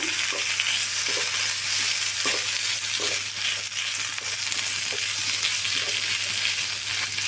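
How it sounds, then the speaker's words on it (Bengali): Boiled potatoes with salt and chopped chilli sizzle in hot frying oil while being stirred, a steady close crackle broken by soft, regular scrapes of the spatula. "সেদ্ধ করা আলু দেব পরিমাণ মতো লবণ, কুচানো লঙ্কা, সব কিছু একটু এভাবে তেলে নাড়াচাড়া করে নেব"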